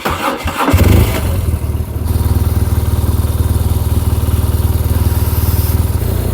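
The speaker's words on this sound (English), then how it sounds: "So while I'm taking my last motorcycle ride of the season, probably, I thought I'd answer one or two questions." A motorcycle engine fires up with a rough burst, then settles into a loud, steady, throbbing run close by, with a rapid, even pulse throughout.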